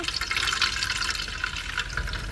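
Wet squelching and trickling as grated coconut is squeezed by hand to press out coconut milk, a steady close liquid sound with no talk.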